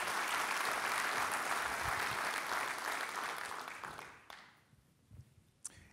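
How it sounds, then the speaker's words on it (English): Applause for teachers, professors and educators at a Long Beach civic address comes as a sustained crowd wash, thinning after about four seconds into a few scattered claps. "Let's give them a big round of applause."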